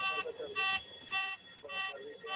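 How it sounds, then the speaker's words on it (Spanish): A cockpit warning alarm sounds for a flap extension defect on an aircraft, a repeating electronic tone in evenly spaced bursts of about half a second, loud and close, with no talk over it. "este es el audio de la cabina, como ya empieza a sonar que había un defecto en la elevación de los flaps"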